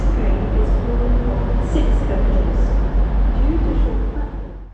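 Transport for Wales Class 175 diesel train rumbles loudly and steadily nearby, with a low continuous engine drone and rolling noise throughout, fading slightly at the end.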